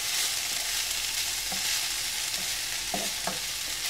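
Green tomatoes for a Kerala thoran stir-fry in a pan, a continuous close sizzle broken by a few light spatula knocks and scrapes near the end, with no voices.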